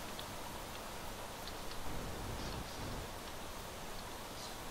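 Rain effect in the survival game Planet Crafter: a faint, steady hiss of falling rain with scattered soft drop ticks, continuous and even, with no talking.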